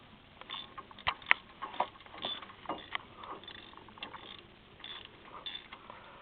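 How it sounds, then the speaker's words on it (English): Hand ratchet spinning and clicking as bolts are run down on the front brakes of a Lincoln Navigator during a brake and rotor replacement, a close, quiet series of irregular mechanical clicks and ticks with no talk. "The ratchet, which is a lot faster, and ratchet it on there."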